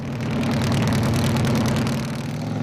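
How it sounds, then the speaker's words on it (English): A self-built supercharged custom show bike engine idles steadily nearby, a deep continuous rumble with a constant low throb and no talking. "this bike, which you've built yourself, actually runs"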